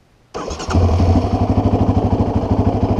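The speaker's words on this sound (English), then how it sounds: "go ahead and start the bike up by pressing the start button wherever it's situated on your quad" A quad bike engine cranks on the start button and catches, settling straight into a loud, steady, throbbing idle close by with no talk.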